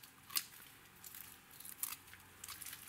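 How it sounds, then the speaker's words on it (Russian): Scissors snip the dry roots off onion bulbs in a few faint, crisp cuts spaced irregularly, close by but quiet against a soft room hush. "Только аккуратно обрезайте, чтобы луковицу не задеть, а то храниться не будет."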